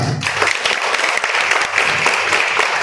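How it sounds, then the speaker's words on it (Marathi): An audience claps for a girl performer at a school drama show, dense continuous applause from a crowd, loud and close, with faint voices underneath. "आता जरा स्पेशल टाळ्या वाजवा"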